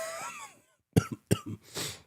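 Two sharp coughs from a person with a fever and sore throat, close by, after a short breathy trailing vocal sound and a pause, followed by a rough exhale.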